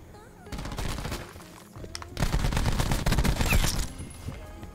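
Rapid automatic gunfire from a weapon in the shooter game Call of Duty: Black Ops 4, dense bursts of shots that grow louder and more sustained over several seconds, with someone speaking over the action.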